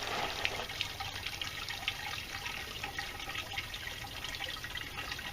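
Water runs steadily through a gold prospecting sluice on the Etowah River, a continuous low trickling wash with faint splashes, fairly quiet and close, with no talking.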